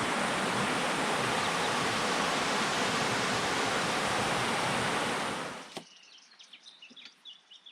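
A river near Howitt Hut flows on a hot summer day, a dense, loud, steady rush of water that cuts off abruptly after about six seconds, leaving faint scattered background sounds.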